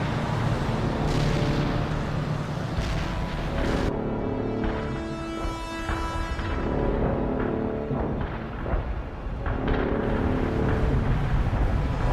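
Continuous heavy booms and rumbling blasts from World in Conflict bombing, loud and dense throughout, with layered explosions and a roaring low-end wash.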